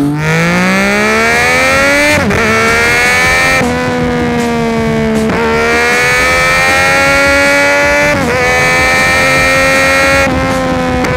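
Triumph 675 cc motorcycle engine pulling away: a loud, close whine that climbs steadily through several gears, with sharp shifts and renewed rises in pitch, with no talk.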